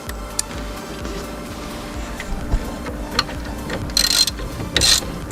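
Ratchet tightening brake caliper bolts by hand during a brake pad and rotor change, with sparse faint clicks and metallic clatter, then two sharper bright ratcheting bursts near the end, close and free of talk.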